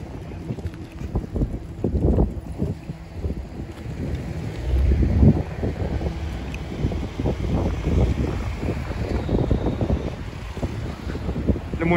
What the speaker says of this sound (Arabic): المهم الريح كاين بزاف اليوم هنا